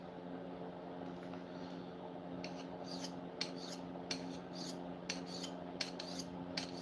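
Knives scraped along a sharpening stone in a run of short, rhythmic strokes, fairly close and moderately quiet over a steady low hum, the strokes getting denser and more regular partway through.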